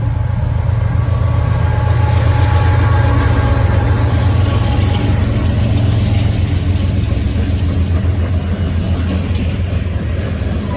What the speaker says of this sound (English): This next train is being led by one of my personal favorite NS models, the AC44C6M